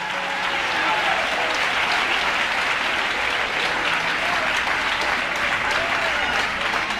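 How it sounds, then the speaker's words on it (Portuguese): A church congregation claps loudly and continuously in dense, sustained applause with a crowd murmur, during a worship service in Rio de Janeiro. "Pode bater palmas e dar glória?"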